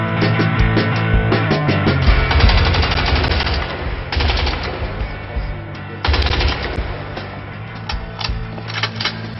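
Automatic gunfire striking a wall in the video game Crysis 2, rapid loud rattling bursts with impact crackle, pausing briefly between volleys, no voices.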